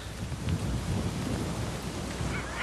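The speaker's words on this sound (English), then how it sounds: "even in this pouring rain" Heavy pouring rain on a coastal cliff, a dense, loud roar of downpour with low rumbling gusts, continuous and close, with no speech.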